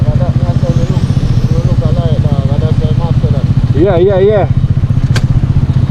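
A Jamco 150 motorcycle fitted with a Keltec muffler idles with a steady, close, pulsing engine thump throughout, while people talk over it.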